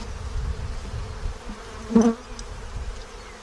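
Honey bees buzz at an open hive, a steady low droning hum with one louder close pass of a bee midway.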